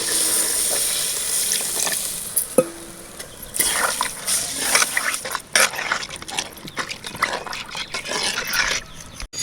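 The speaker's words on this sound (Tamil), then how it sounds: "தேவையான அளவு தண்ணி விட்டுக்கலாம்." Water splashes and trickles into a pan with irregular bursts and clatter, up close, lasting several seconds without speech.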